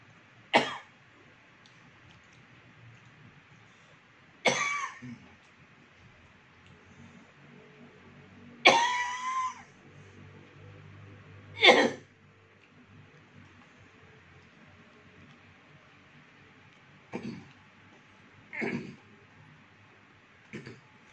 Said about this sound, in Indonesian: Tiap waktu makan dia mesti batuk.